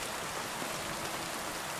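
Steady rain pours in Kingdom Come: Deliverance II, a dense, even hiss of falling water that holds at a constant level with no other sounds on top.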